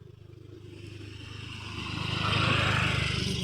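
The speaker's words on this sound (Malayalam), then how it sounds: "വലിയ സ്കൂട്ടർ കേട്ടോ പോയ" A large scooter passes close by on a road near a school, its engine hum and rattle swelling louder over a few seconds as it nears.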